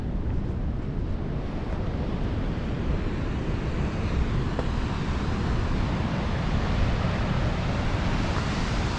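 Ocean waves off the coast at Cape Nelson Lighthouse near Portland, a steady broadband roar of surf mixed with wind buffeting the microphone, loud and continuous throughout with no voices.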